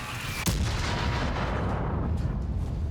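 A single heavy tank cannon blast in a video game booms at once, followed by a long rumbling echo that slowly fades.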